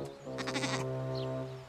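In an animated children's show set in a garden, a cartoon goat lets out one brief, quavering bleat over a sustained musical drone, followed by a faint higher chirp.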